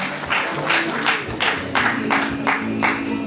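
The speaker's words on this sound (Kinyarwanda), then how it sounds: "tumukomera amashyi menshi" Wedding guests applaud the bride's father with rhythmic, unison clapping, about three claps per second, steady and fairly close over a low background hum.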